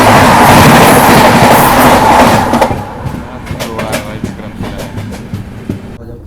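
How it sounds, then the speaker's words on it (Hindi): Vikramshila Express, a Bhagalpur–Anand Vihar passenger train, roars past on the crossing track at night near Phaphund, a loud dense rush of wheels and wagons that drops after a few seconds into lighter clicking rail rhythm. "सामने से हमारी क्रॉसिंग होने वाली है विक्रमशिला एक्सप्रेस के"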